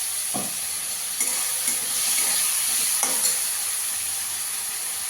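Tomato sauce and water hit a hot pan and are stirred in, making a loud, continuous hissing sizzle with a few scraping strokes of a spoon, close up and without speech.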